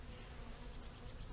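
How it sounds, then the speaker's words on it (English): Dense, steady buzzing of many honey bees crowding a beehive at night, continuous and close, with no talk over it. "Man, this thing is full of bees."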